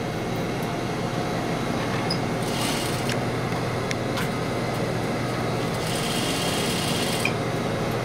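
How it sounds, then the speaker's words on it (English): Sewing machine stitching the curved center back seam of a pair of pants, a steady rapid mechanical whir running continuously at close range, with a few faint clicks and brief bursts of higher buzz along the way, no talking. "you're going to sew around this back seam curve"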